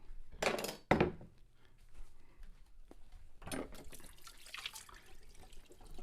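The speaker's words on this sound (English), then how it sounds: "I feel like washing this out with some vinegar." A hot sauce container is rinsed under a kitchen tap, with short bursts of running water splashing and gurgling, a knock against the container, then a longer spell of flow with quieter drips between.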